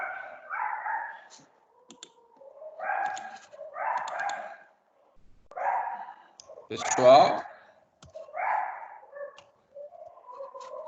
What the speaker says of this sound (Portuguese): tem um cachorro no fundo aí, está atrapalhando bastante.